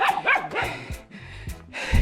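Dogs bark repeatedly on a steep hillside in the Jamaican hills in the early morning, sharp uneven bursts close by with no talking over them.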